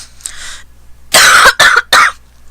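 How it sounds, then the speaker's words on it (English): Three loud, harsh coughs come in quick succession right into a headset microphone, following a softer throat sound at the start. "I'm trying to not cough in the mic, and it's very difficult."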